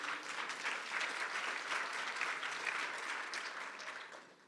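Sustained applause from a sizable crowd, dense and steady throughout, tapering off slightly at the very end.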